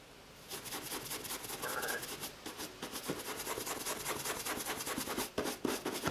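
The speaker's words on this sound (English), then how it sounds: "Just give it a buff off." A Kiwi-polished Caterpillar safety boot is buffed off with steady, brisk rubbing strokes, a dense scratchy swishing that runs close and fairly loud throughout with no talking.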